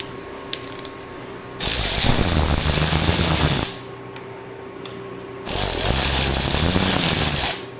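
A power tool tightens a part on a billet Coyote crate engine in two loud, close bursts of whirring, ratcheting noise lasting a couple of seconds each, with quieter pauses between them.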